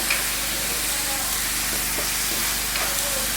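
Tomato sautéing in a pan for a squid roast: a continuous loud, hissing sizzle with a few soft stirring scrapes, steady throughout the short stretch, no speech.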